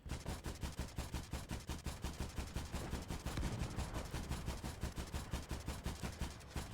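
Tank cannon fire in Gates of Hell: Ostfront, heard as a fast, evenly spaced train of sharp, uniform bangs over a constant rumble, faint and distant with no talk.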